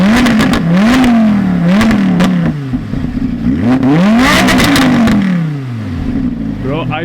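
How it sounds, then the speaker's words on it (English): An Audi R8 supercar engine is blipped repeatedly, each loud rev climbing and falling in quick succession, the bursts close and dominating, with a deeper, longer surge near the middle and a voice briefly audible in the background. "Let me give you a bit of revs."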